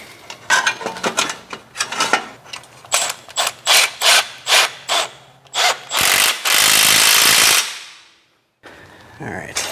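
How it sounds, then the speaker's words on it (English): A tool tightens a clamp while VRP downpipes are fitted on a biturbo AMG GT S, giving a series of loud, close rhythmic ratcheting bursts, then a sustained whirring run that cuts off into brief silence. "I'll go ahead and tighten this one up"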